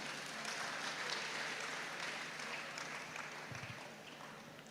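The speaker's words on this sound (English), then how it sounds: "I want all of us to clap ourselves." Audience at a youth in agriculture symposium claps for themselves, a soft, even spread of many hands clapping at a distance, slowly tapering toward the end.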